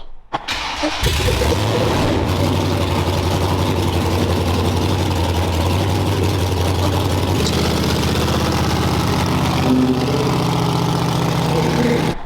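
A rebuilt car cranks briefly, catches and settles into a loud, deep, steady idle close by, the rumbling note shifting slightly partway through as it keeps running.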